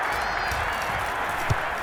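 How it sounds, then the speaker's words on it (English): Stadium crowd applause and cheering roar in a Madden NFL 22 football game after a defensive stop, a dense continuous wash of clapping with a brief louder burst near the end. "How about some applause for the defense there?"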